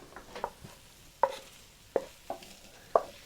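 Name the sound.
mixing eggs into cornbread batter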